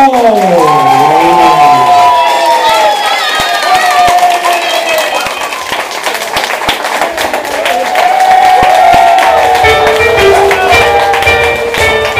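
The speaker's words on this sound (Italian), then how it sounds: "senti gli applausi" Applause and cheering from a show audience during a 2008 Royal Tour performance, a steady crowd wash running the whole time under loud singing and music.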